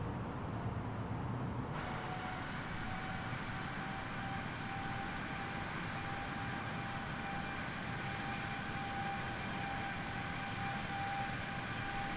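Airbus A330 engines climbing toward cruise altitude in Microsoft Flight Simulator make a steady, dense jet roar with a faint high whine, unbroken and even at moderate level throughout.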